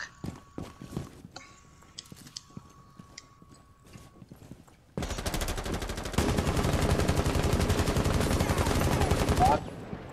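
Gunfire in the video game Rainbow Six: Siege: a few scattered footsteps and clicks at first, then a long, loud, rapid automatic burst of shots that runs steadily for about four and a half seconds before stopping abruptly.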